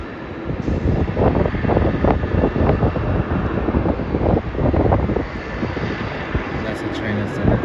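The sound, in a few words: China Southern Airlines plane arriving from Guangzhou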